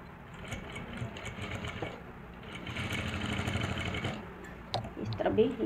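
A sewing machine runs close up while stitching a lehenga blouse, giving a steady mechanical whir with a fast rattling needle rhythm that swells and rises toward the end, with faint background noise.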